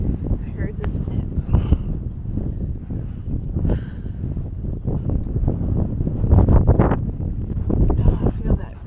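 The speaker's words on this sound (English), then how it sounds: "Oh, I feel that breeze. It's windy." Gusty wind buffets the microphone in a low, steady rumble while people talk nearby, outdoors at Lake Rousseau Dam and Recreation Area.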